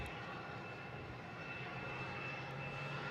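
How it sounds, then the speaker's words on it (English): An American Airlines Airbus A321neo jet from Charlotte approaches to land at Boston Logan over Paradise Bay, a faint, steady distant engine roar with a thin whine holding throughout. "let's get this American Airlines from Charlotte, A321neo, flight 3294. Coming in over Paradise Bay."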